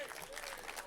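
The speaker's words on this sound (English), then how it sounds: "Let's have a round of applause for Delta" Brief round of applause from an audience at a hospitality awards ceremony, a dense steady patter of clapping heard for about a second at moderate distance.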